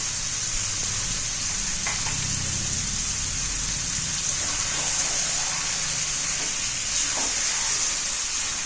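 Chicken pieces and cut potatoes fry in a pan with salt, a dense continuous sizzle like steady rain, with faint stirring knocks underneath and no voices.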